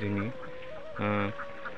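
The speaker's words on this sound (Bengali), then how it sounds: "দেখতেই পাচ্ছেন তার হাঁসগুলো" Ducks on a duck farm of about 400 birds in Kundail village, Chalan Beel, Sirajganj, give two short, loud, nasal quacking calls close by, with a faint pause between them.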